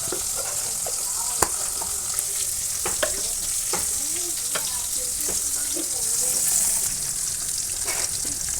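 A single chopped tomato fries and is stirred in a hot pan, giving a steady close sizzle with scraping strokes and light clicks of the spoon against the metal, and no talking over it.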